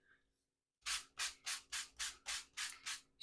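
Sandpaper rubs a fall wreath craft piece in eight quick, even strokes after a brief silence, a soft, close, rhythmic scratching.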